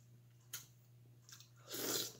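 Shrimp being chewed during a mukbang: a few soft, close wet crunches and squishes, ending in a louder moist bite, with no talking.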